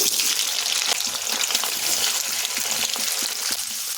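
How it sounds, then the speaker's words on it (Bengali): Soft, fresh homemade paneer pieces fry in hot white oil in a kadai, giving a steady, bright sizzle with scattered small crackles and pops throughout and no talking. "তেলটা গরম হলে এর মধ্যে কেটে রাখা পনিরগুলো দিয়ে দিচ্ছি"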